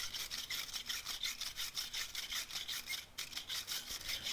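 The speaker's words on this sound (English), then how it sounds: "Give it a quick brush." A brush scrubs quickly back and forth over a wooden rivet joint in traditional joinery, a steady run of close, bristly rasping strokes with one brief pause near the end.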